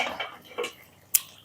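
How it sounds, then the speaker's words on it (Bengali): A lid is lifted off a cooking pot of simmering fish curry with eggplant and potato, giving a few faint clinks and ending in one sharp, bright metallic tap, close by and quiet. "ঢাকনাটা উঠে নিলাম"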